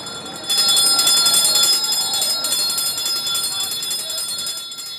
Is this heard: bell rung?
yes